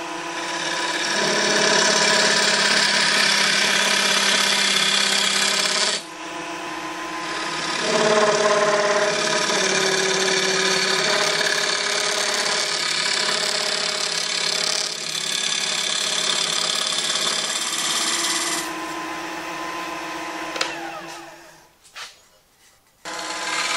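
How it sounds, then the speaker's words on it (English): A wood lathe spins a turned bowl while a scraper finishes its interior, making a steady, loud rubbing whir with a droning motor hum that shifts in pitch, then drops out near the end as the lathe slows. "finishing up the interior of your bowl with a little scraping action"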